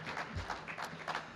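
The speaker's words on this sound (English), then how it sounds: "Give them a round of applause" Audience applause at a small business awards ceremony, a faint, steady patter of clapping from a modest crowd in a hall, heard from a distance.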